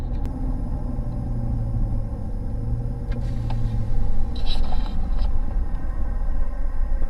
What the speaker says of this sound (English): That was the turbo brake.